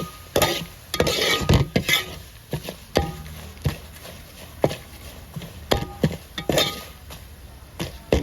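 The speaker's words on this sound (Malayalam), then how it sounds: "നല്ലപോലെ ഒന്ന് പച്ചിപ്പൊന്ന് മാറാനായിട്ട് വഴറ്റിട്ട് കൊടുക്കുക." Spicy masala for a fish pickle being sautéed in a pan: a spatula scrapes and taps the pan in irregular strokes over a soft, steady sizzle, close by and without talk.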